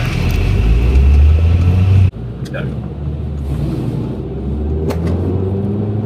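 A Mercedes A-Class 2014 with a 1.6 litre petrol turbo engine drives with a steady low rumble of engine and road noise, loud and continuous, with a fan running inside the cabin.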